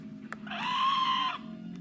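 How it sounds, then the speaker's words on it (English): A short scream effect, an extra bundled with a Halloween album package, rises and holds for under a second as a thin, shrill high-pitched cry, fairly faint over low background hum, with no talking. "but that's a little scream"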